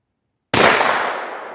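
A pistol shot rings out against a steel target at 75 yards, a single sharp crack and metallic clang after a half second of silence, then a ringing decay that fades over about a second.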